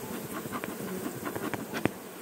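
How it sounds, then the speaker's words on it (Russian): Close buzzing of honeybees at a hive during pollen collection, with a steady hum and brief flickers as insects pass near, plus a short sharp knock near the end. "погоняем пчелок"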